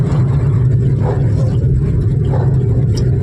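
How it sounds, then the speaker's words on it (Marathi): Cars and larger vehicles roll along a flooded Mumbai street in heavy monsoon rain, tyres throwing up water over a steady, close traffic rumble and hiss that continues without a break. "हे बघा टायरमुळं कसं पाणी उडतंय कारमधून किंवा त्या ज्या मोठ्या गाड्या आहेत त्याच्यामधून"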